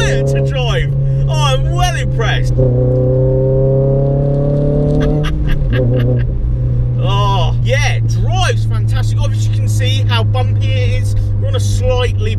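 A Renault Clio RS200 hot hatch pulls through manual gear changes, its engine note rising and dropping in clear steps with each shift. Someone talks excitedly over the steady, close cabin drone.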